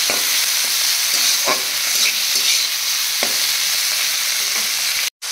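Prawns frying in a pan produce a loud, close sizzle with repeated stirring scrapes at an irregular pace, the sound cutting out abruptly near the end.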